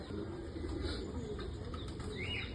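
A pigeon coos in a loft amid other birds, low soft calls rising and falling in near, continuous murmuring, with light chirps and a brief flutter of wings.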